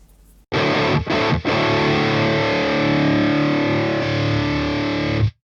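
Heavily distorted electric guitar chords through a metal amp simulator with power amp stage ring out loud and sustained, with two quick breaks near the start, then a long held crunchy chord fading at the end.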